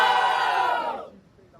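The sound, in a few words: audience cheering and making noise for rap duo Silas and Raef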